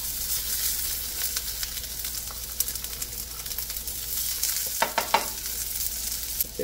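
Chopped garlic sautés in oil in a small frying pan for vegetable spring rolls, giving a steady close sizzle with a few brief clatters and scrapes near the end.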